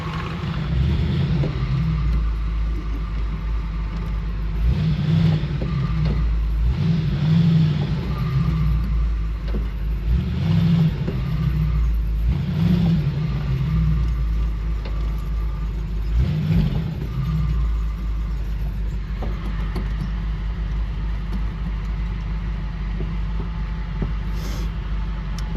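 A 1955 Chevy Tri-Five V8 driving on a cold-start cruise, a loud low rumbling engine with repeated revving swells and throttle pulses over a steady drone, no talk.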